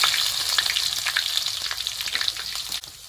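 Crushed ginger and garlic sizzle and fry in hot oil in a wok, a steady loud crackling hiss with scattered pops throughout, briefly dipping near the end.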